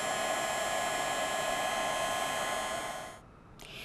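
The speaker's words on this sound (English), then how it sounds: "once the heat tool heats up, then everything else starts to move a lot more quickly" A heat tool blows hot air to set embossing powder on a winter card, a loud, steady whooshing whine with a bright tonal hum, close to the microphone, cutting off near the end before a brief restart.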